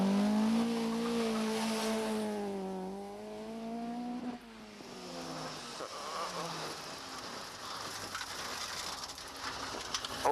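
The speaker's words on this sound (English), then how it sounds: "they have no alternative but to stop and change the wheel" A rally car in a 1995 rally stage sits stopped mid-test with a punctured wheel being changed, its engine droning with wavering harmonic tones while mechanical clatter and ratcheting tool noises follow, no talking.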